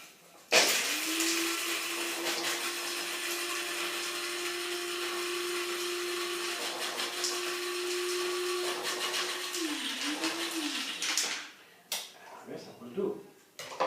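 A food processor blends carrot cake batter with walnut pieces, its motor whirring loudly and steadily for about eleven seconds before shutting off, followed by a few brief knocks.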